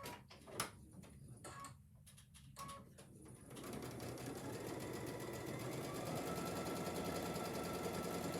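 A sewing machine runs steadily, stitching quilt sections together in a continuous fast rhythmic whir that settles into an even hum, preceded by a few scattered clicks and handling knocks.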